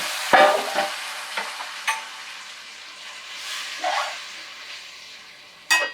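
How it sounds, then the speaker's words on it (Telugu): Raw banana pieces drop into a hot mustard-seed and cumin tempering and fry, giving a steady low sizzle with a few louder stirring clatters and hissing bursts, close and with no talking. "ఈ ఆవాలు జీలకర్ర వేగింది కదా ఇప్పుడు ఈ అరటికాయ ముక్కలు వేసేస్తాం"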